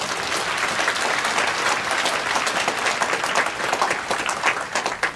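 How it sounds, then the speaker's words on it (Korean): Dense, steady applause fills a church hall during a special early-morning prayer service with sign-language interpretation, the whole congregation clapping together at a constant, fairly loud level throughout. "은혜를 위해서 박수 한번 치겠습니다"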